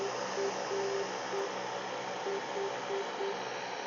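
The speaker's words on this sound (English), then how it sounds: "that's the Morse code for Charleston" On an aircraft NAV radio, the Morse code ident of the Charleston navigation beacon sounds as a faint, steady-pitched series of dots and dashes over constant radio hiss, with no voices.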